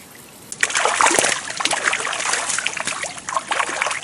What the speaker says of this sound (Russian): Что-то плескается.